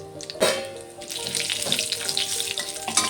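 A bay leaf and whole cumin seeds hit hot oil left from frying eggplant for a Bengali pabda fish curry, giving a sharp burst of sizzling and then a steady, close crackle.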